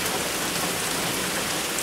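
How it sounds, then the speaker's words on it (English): Rain pours down on a porch, a dense, even hiss of drops hitting the surface without a break, steady and fairly close. "Raining on the porch."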